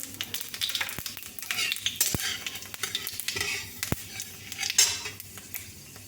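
Panch phoron spices crackle and sizzle in hot mustard oil in a kadai, with a spoon scraping and clinking against the pan in irregular strokes, close and fairly loud, no voices.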